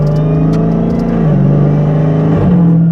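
A car's exhaust with Stainless Works catless mid pipes rumbles loud and close with a deep, raspy idle drone, shifting slightly in pitch as the engine revs gently.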